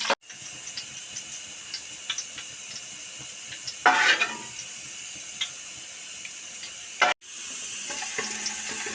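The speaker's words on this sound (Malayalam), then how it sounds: "അണ്ടിപ്പരിപ്പും മുന്തിരിയൊക്കെ ഇത് നെയ്യിൽ മൂപ്പിച്ച് മാറ്റി വെക്കാം" Cashews and raisins frying in ghee give a steady, close sizzling hiss, broken by a short louder burst of stirring or spattering midway and a brief drop before the sizzle resumes.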